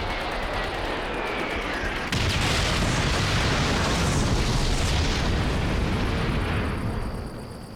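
Artillery shells burst around Marines in Call of Duty: World at War, a dense, continuous rumble of booming explosions that swells louder after a couple of seconds and holds steady before easing off at the end, with no talking.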